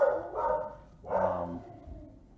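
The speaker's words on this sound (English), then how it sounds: "There's my dog." A pet dog barks indoors in a few short, moderately loud woofs, two spaced bursts with a lingering low tail, heard alone without talk.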